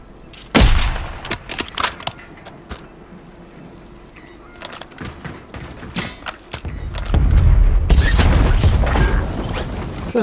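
Loud gunfire in the video game Warzone: rapid bursts of automatic fire and scattered single shots with heavy thuds, followed by a long sustained stretch of shooting near the end, with a voice briefly heard.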